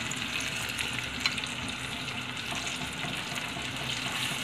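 A tomato masala with water, ajwain, turmeric, red chilli and salt sizzles softly in a pan for tuna, giving a low, steady bubbling hiss with faint clinks.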